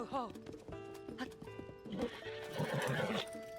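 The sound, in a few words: horse neighing and hooves in Zelda: Tears of the Kingdom video game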